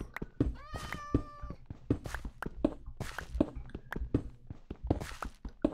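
A cat meows in the Minecraft video game, a short drawn-out meow near the start, heard under steady game sounds and repeated tapping footsteps.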